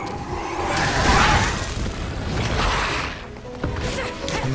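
Explosion attacks in the Scarlet Nexus video game land as heavy booming blasts and crashing impacts with whooshing swells, loud and close, followed by a sharp hit near the end.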